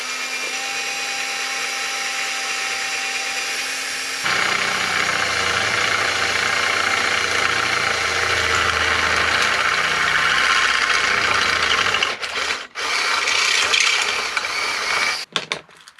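A power drill drills a hole through the mudguard of a Triumph T140V Bonneville, a steady loud whirring grind that runs continuously, close by, and cuts out briefly near the end.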